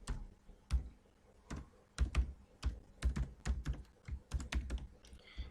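Java code being typed on a computer keyboard in irregular bursts of close, crisp key clacks, with short pauses between flurries and no talking.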